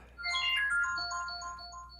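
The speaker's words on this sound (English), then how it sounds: "What's my alarm?" A phone alarm rings with a bright electronic melody of repeating tonal notes, fairly faint against a quiet room, sounding alone without talk.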